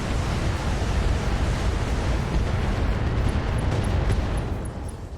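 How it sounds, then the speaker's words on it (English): A mech's ammunition cooks off in a BattleTech battle, a loud, sustained roaring rumble of explosion that fills the whole stretch without a break and eases off slightly at the end. "He just cased his ammo explosion out."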